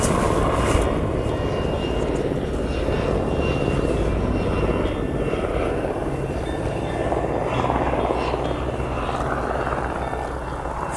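A helicopter flies overhead above a mountain area in Osturňa, its rotor and engine a steady, fairly loud drone that holds across the whole stretch alongside outdoor background noise.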